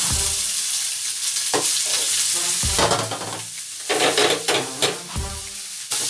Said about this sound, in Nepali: यता फ्राई गर्ने।